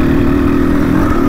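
A motorcycle engine droning steadily while being ridden, loud and close, a constant low hum with no talking.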